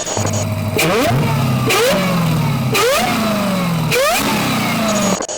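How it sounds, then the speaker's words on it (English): A Dodge Hellcat's supercharged V8 revs repeatedly, five loud rising blips over a steady idle, each climbing with a sharp supercharger whine before dropping back, close by and without talk. "a lot of people get the leg maker because it increases the supercharger whine"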